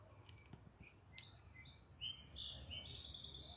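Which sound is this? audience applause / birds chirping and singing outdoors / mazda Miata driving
birds chirping and singing outdoors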